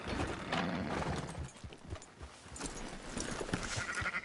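Sheep bleat amid farm livestock noise in the Red Dead Redemption 2 game world, a busy, continuous mix with hoof-like clopping and movement, moderately loud throughout.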